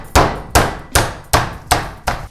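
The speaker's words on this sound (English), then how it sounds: "I get my mallet and give it a good pounding" A meat mallet pounds chicken breast under cling film, six evenly spaced, loud, close thwacks about every 0.4 seconds, each a sharp slap with a short decay and no voices.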